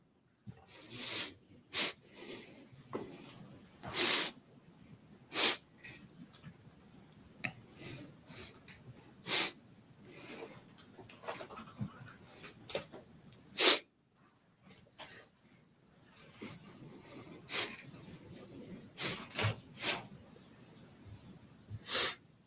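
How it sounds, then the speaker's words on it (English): Sniffling and sharp snorting breaths in a courtroom, recurring irregularly every second or two, fairly close, over a quiet room murmur with no clear talk. "The sniffling is really getting to me really hard."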